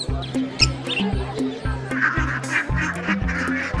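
Ducklings at a pet market in Chennai give repeated short honking calls in a quick, overlapping rhythm, close and fairly loud, with market noise behind.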